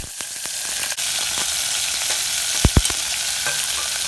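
Vegetables hit hot oil for egg rice on a lakeside outdoor stove, giving a loud, steady sizzle. A few sharp clacks of stirring cut through near the end, and no one speaks.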